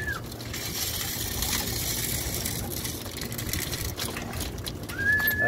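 Pigeons in a combined loft at feeding time, with a steady busy bed of fluttering, pecking and soft cooing throughout, a few higher chirps breaking through near the end.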